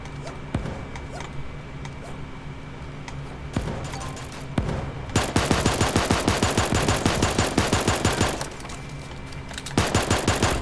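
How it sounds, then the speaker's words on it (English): A minigun in the video game Super Animal Royale fires in long, rapid bursts of shots, loud and close, with short pauses between volleys and scattered single shots before them. "He's got a minigun."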